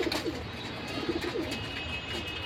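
A silver male pigeon kept for sale coos softly in a low, repeated rhythm, close by over a steady background hum with no talking.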